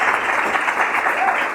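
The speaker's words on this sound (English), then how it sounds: "Give yourself a round of applause for showing up." A crowd applauding, dense steady clapping throughout at close range.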